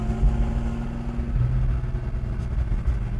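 A 1966 Pontiac GTO engine running at idle outdoors, a low steady rumble with a faint uneven lope, fairly close and continuous with no talk over it.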